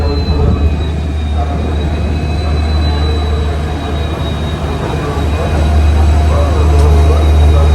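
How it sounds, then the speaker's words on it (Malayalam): The Siddhaganga Express from Bangalore to Dharwad rumbles past at Yeshwantpur with a steady heavy roar of wheels on rails, loud and close, with faint squeals above the continuous din. "ഇത് അങ്ങോട്ട് പോകുന്ന സിദ്ധഗംഗ എക്സ്പ്രസ് ആണ്. ബാംഗ്ലൂരിൽ നിന്ന് ധാർവാഡ് പോകുന്ന സിദ്ധഗംഗ എക്സ്പ്രസ്."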